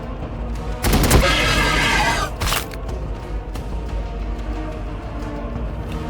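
A loud burst of massed gunfire from troops opening fire in the Warhammer 40,000 Battlesector strategy game erupts after a quiet start, then dies back to scattered shots and rumbling battle noise.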